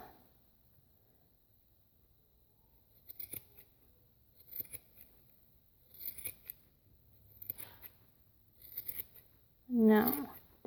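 Scissors snip at a large yarn pom pom in a series of soft, close cuts spaced a second or so apart, with a louder rustle of handling near the end.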